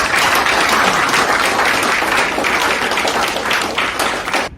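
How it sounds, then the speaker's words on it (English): Loud, dense audience applause filling the room at a philanthropy event, sustained evenly by many hands before cutting off abruptly at the end. "I think they all deserve a round of applause."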